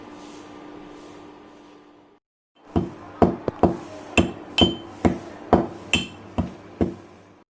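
Cardamoms and long peppers are ground in a pestle or grinder, giving a series of about a dozen sharp, fairly loud knocking strikes at a steady rhythm, after a short stretch of low hum and a brief silence.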